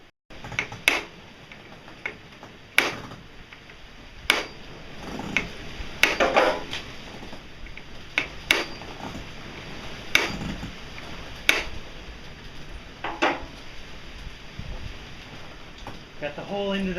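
Hammer taps a pin into a wooden gear in a wood shop, sharp irregular knocks spaced a second or two apart, close and distinct over faint background noise.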